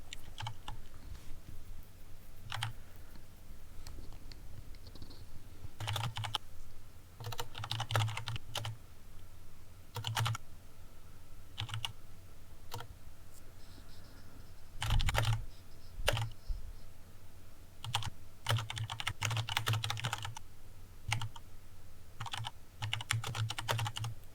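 Clicky typing on a computer keyboard during an online tabletop game session, bursts of rapid keystrokes separated by pauses, close and crisp with no talking.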